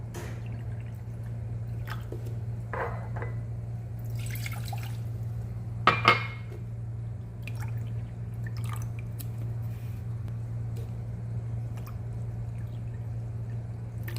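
Two cups of water poured into a bowl of ingredients, including powdered milk, in a home kitchen: short trickles and drips with a sharp clink near the middle, over a steady low electrical hum, with no talking.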